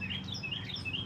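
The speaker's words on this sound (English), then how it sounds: "Do y'all hear the birds trying to compete with my voice out here?" Birds chirp outdoors in a garden, a quick series of bright high tweets repeating several times in about a second, moderately close over a low ambient rumble.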